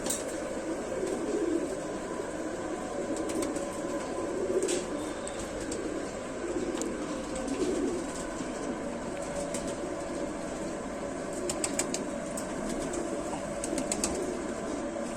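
Pigeons in a loft coo softly and continuously, with occasional wing flaps and rustling, a low steady murmur throughout.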